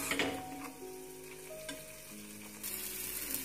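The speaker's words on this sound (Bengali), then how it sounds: "মশলাটা আমাদের ভাজা হয়ে গেছে," Ginger-garlic spice paste fries in hot oil in a pan for a Mughlai paratha while a spoon stirs it, giving a close, steady sizzle broken by scraping strokes, with no voices.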